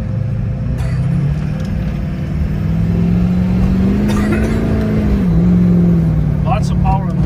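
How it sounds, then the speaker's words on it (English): A 2005 Chevy Silverado pickup driving in four-wheel drive on rough roads, a steady mid engine drone that rises slightly in pitch as it gathers speed, heard from inside the cab. "Right now we're in four-wheel drive."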